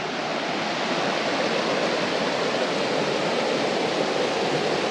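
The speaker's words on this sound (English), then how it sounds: "Little rapids right there." Small river rapids at Copper Falls State Park rush in a constant, full broadband wash, steady and close with no voices.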